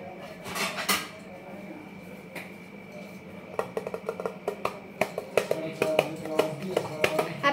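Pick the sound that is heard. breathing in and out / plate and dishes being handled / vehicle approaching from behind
plate and dishes being handled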